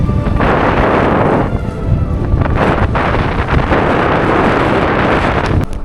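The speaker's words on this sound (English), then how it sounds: "It is insanely windy." Strong wind roaring and gusting against the microphone on a bike trip in western Canada near Jasper National Park, a heavy, rumbling blast that barely lets up throughout.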